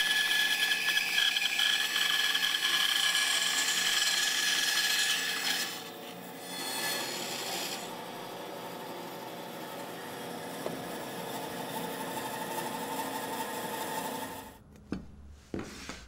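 Band saw cutting dovetail tails into wood for a hutch: a steady, close rasping whine with a ringing tone runs continuously, eases slightly midway, then stops with a few sharp clicks and knocks.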